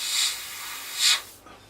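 Two short airbrush bursts spraying paint onto a 1/32 Tamiya F-16 CJ model kit, each a soft airy hiss lasting about a quarter second, close by, with a faint click of the tool afterward and no talk.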